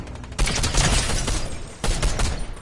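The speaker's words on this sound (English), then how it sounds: "Somebody shooting!" Rapid bursts of gunfire in the video game Fortnite, loud and close, with two heavy volleys separated by a short pause.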